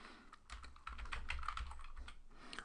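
Rapid keystrokes on a computer keyboard, a quick irregular patter of clicks that thickens into steady typing after the first second, close and clear with no talking.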